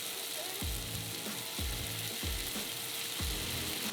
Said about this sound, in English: I'm gonna put a little dollop of maple syrup on each sausage and just let it cook onto the sausage.